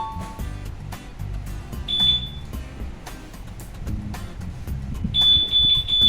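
Remote alarm on a Bristol ADX160 scooter sounds two high electronic beep tones over a steady low rumble, fairly loud and close, without talk.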